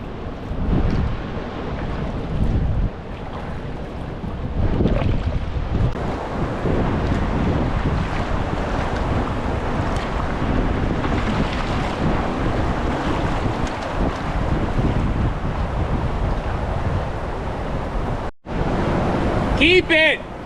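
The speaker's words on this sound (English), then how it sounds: "Come up to the falls on Longer Lake" Continuous rushing roar of a waterfall on Longer Lake in Algonquin, heard up close and mixed with buffeting wind noise on the microphone; a person speaks over it.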